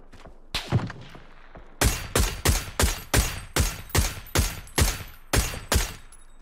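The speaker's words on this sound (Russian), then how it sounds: "Хорошая стрельба, Вадим, Аркадий." Gunfire in the video game PUBG: after a few scattered opening shots, a loud, evenly spaced string of about a dozen single shots rings out, each with a short echoing tail.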